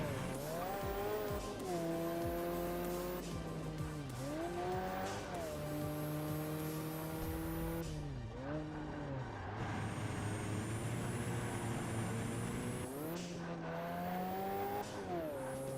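The Ford FR100, a big truck with a NASCAR-derived engine, races in Ford Racing 3. Its engine drones loud and close and rises in pitch through repeated gear changes, with tire squeal and other racing noise in the mix.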